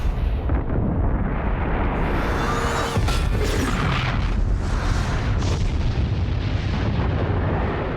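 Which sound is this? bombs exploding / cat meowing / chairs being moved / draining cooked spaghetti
bombs exploding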